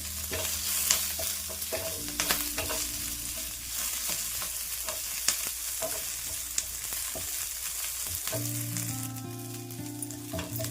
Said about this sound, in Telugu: ఇప్పుడు అందులోనే చిన్న ఉసిరికాయ సైజు చింతపండు రిబ్బర్ని వేసుకుంటున్నాను కరివేపాకుతో పాటు కూడా ఇది కాస్త వేగనిద్దాము